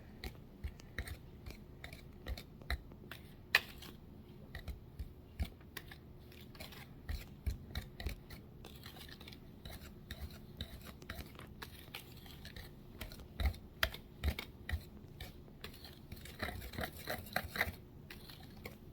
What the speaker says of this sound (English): then you're going to want to whisk all of that together